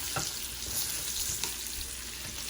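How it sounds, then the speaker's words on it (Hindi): Meat frying in a pan for Hyderabadi meat pickle, a faint, steady sizzle with occasional soft stirring knocks and no talk. "और गोश्त डाल के भून देंगे।"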